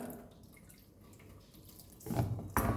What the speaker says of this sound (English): So now we'll add little by little water